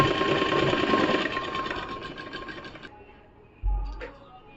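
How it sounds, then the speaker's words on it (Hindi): A sewing machine runs a double seam along the side of a gathered frock, giving a steady close whirring stitch for about three seconds before it stops, followed by a soft thump. "और अब मैं इसे सिलाई करूँगी। इस पे डबल सिलाई चलानी है दोनों बाजू में।"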